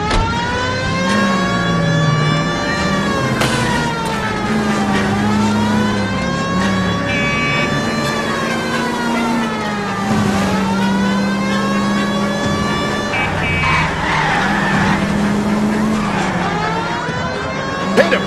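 Car engine revving hard with repeated tire skids and squeals during a police chase in the 1940s Los Angeles crime game L.A. Noire, loud and continuous with rising and falling engine pitch and a faint siren in the mix.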